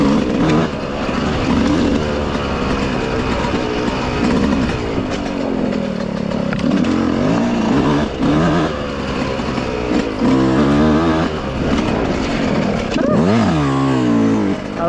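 A dirt bike revs on a tight trail, its engine close and loud as it climbs and drops in pitch in repeated throttle bursts throughout.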